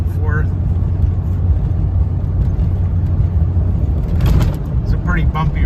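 A Dodge truck with a steering wobble rumbles steadily over a bumpy road, a continuous low engine and road drone with a few rattles and jolts near the end.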